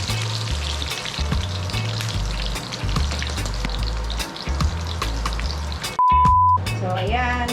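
Crab relleno frying in hot oil, a steady loud sizzle with popping splatters throughout, a brief sharper burst of crackling near the end.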